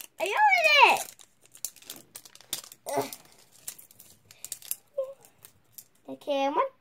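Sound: peeling open a toy's wrapper packaging

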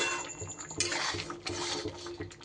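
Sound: covering the cooking pot with a lid

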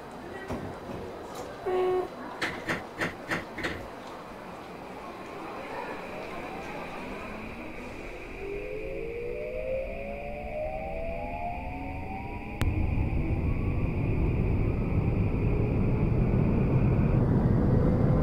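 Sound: Tokyu 2020 series train departing, BVE5 train simulator game

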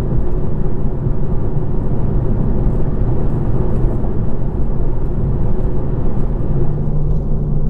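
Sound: road noise inside a car on rough textured road

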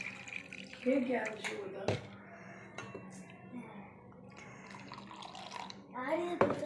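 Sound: pouring ground pani puri mixture through a strainer

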